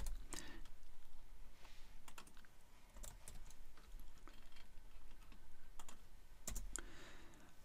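Fingers type code on a computer keyboard, a run of quiet, irregular clicky keystrokes with short pauses, close and soft in a calm room.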